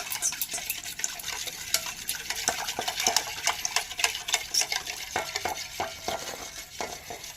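An eggless vanilla sponge cake batter with baking powder and baking soda is stirred by hand. Rapid, irregular spoon clicks and scrapes against the bowl sound close and steady throughout.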